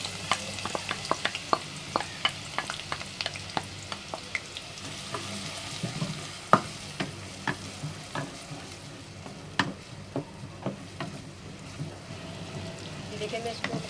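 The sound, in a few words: chopped onion frying in hot oil in a pot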